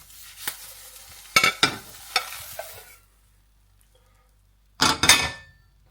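Eggs sizzle in a frying pan with several sharp spatula scrapes and clanks as they are flipped, then a pause and one more scraping burst, close and with no voices.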